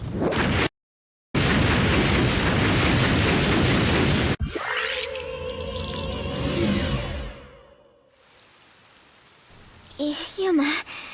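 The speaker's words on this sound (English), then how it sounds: "Error! Bomb will detonate in 5 seconds." A bomb going off in the video game Rain Code: a dense roaring rush that cuts out briefly, then a sharp blast giving way to swirling, ringing debris tones and a fading tail, with game effects rising near the end.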